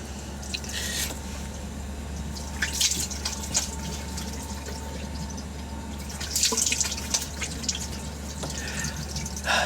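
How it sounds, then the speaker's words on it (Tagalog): Cold tap water runs while someone washes their face, with irregular splashes and drips rising in bursts over a steady background hiss, close by and without talking. "So maghihilamos po tayo ngayon. Pero sobrang lamig ng tubig dito."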